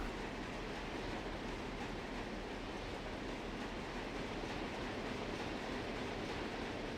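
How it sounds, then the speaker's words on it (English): Long freight train in the Run 8 train simulator rolling steadily past, a dense, continuous rumble of railcars with faint clickety-clack, even in level throughout, with no talk. "That's a long train."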